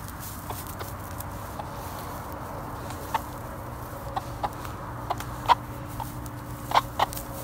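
Hen catching a baby snake in a yard, giving soft scattered clucks and a few sharper peeps over a steady low outdoor hum, with light rustling steps.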